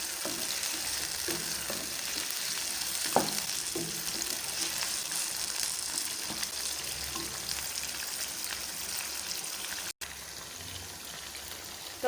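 Chicken korma masala fries in a pan with a continuous, even sizzle throughout, punctuated by occasional soft stirring knocks and a short break near the end before the hiss resumes.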